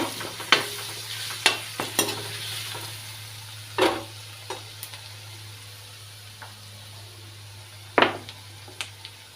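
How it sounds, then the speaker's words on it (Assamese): Ginger, onion and garlic frying in a pan of oil for a fish and radish curry, with a soft continuous sizzle, several sharp spatula scrapes, and a low steady hum underneath. "আদা, পিঁয়াজ, নহৰুখিনি দি পেলাই এনেদৰে ভাজি থাকিব।"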